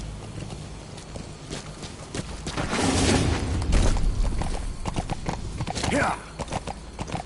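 A horse in a PS4 video game walks with loud, close clip-clopping hooves and gives a brief whinny, with a low booming rumble in the middle; a voice speaks briefly.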